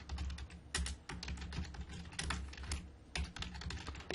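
Someone types answers on a computer keyboard, close and steady, with rapid key clicks in uneven bursts and a few louder presses, with no voices over it.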